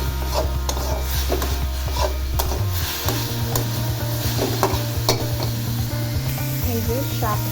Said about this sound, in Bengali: এটাকে নাড়াচাড়া করতে দেখবে একদম ভাজা ভাজা হয়ে যাচ্ছে